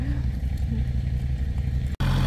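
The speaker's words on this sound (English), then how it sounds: "So we're warming up the tractor and let the tractor carry them." A tractor engine idles while warming up at an off-grid cabin building site, a steady, loud, close low rumble with a faint rattle that runs throughout, broken by a brief dropout near the end.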